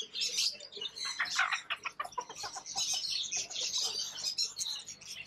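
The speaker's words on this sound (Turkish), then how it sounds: "burada horoz falan da var" Chickens cluck and a rooster calls among other birds at a Bangkok exotic animal market stall, a busy overlapping chorus of chirps and clucks, fairly close and steady with no talking.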